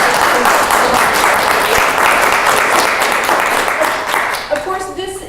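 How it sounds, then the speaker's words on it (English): A steady round of applause for students at a dispute resolution symposium, dense and loud from a sizable audience, tapering off at the end as a voice begins speaking. "a round of applause for them"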